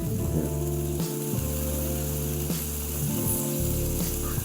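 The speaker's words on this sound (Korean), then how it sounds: "이제 고기가 밑면이 익어가는데" Pork belly sizzles loudly on a griddle at a Daejeon restaurant, a steady close crackle and hiss running throughout with a few clanking utensil knocks and a faint tonal hum beneath.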